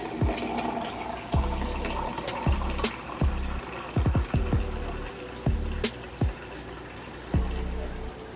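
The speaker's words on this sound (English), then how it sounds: "pour yourself a glass of this in the morning on an empty stomach." Watermelon drink pours from a container into a glass in a kitchen, a liquid splashing and gurgling stream interrupted by repeated short glugs and drops, close and moderately quiet.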